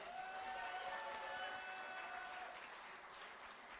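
A crowd gives loud, sustained applause at a Democratic Party candidates' rally in Gyeongbuk, with dense, continuous clapping that holds steady and eases slightly near the end, alongside faint cheering tones.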